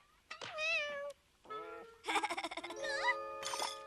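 A cartoon cat meows several times in a row, the calls loud and close, drawn-out and varied in pitch, with a brief light jingle among them.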